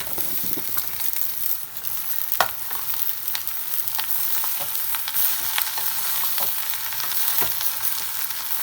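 Chopped sajmain (pumpkin) pieces frying with onions in a pan, a steady close sizzle and crackle with occasional stirring scrapes, no talk.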